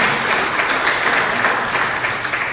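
Dense, steady applause from a church congregation at an evening worship service, a broad wash of many hands clapping at once that holds evenly throughout without any voices.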